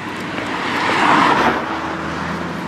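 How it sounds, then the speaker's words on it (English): A van driving past at 1 a.m. on a street during a night dog walk: a steady broadband road rumble that swells to a peak mid-clip and eases off, loud and fairly close, with no talking. "There's a van driving by them."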